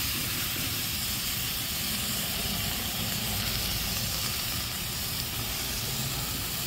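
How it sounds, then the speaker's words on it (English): Carrots and potatoes frying in ribeye steak grease inside a solar cooker give a steady, even hiss and sizzle that holds at a moderate level without a break. "I'm gonna cook the carrots and the potatoes that I selected for this in this grease that came off of the thingy."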